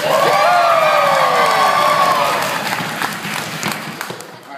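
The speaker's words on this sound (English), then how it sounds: "we need to let him know with a level 10 applause" Audience at a comedy theater cheering and clapping loudly, with whoops and shouts on top, the roar sustained then tapering off toward the end.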